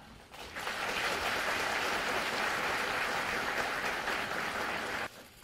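An audience applauds at the inauguration ceremony of a new Justice Minister, a sustained dense patter of clapping lasting about five seconds before cutting off abruptly.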